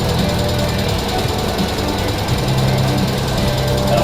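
A 1987 Monte Carlo SS engine, abandoned for over twenty years, runs at a fast, rough idle on its first start, a loud continuous clattering drone close by.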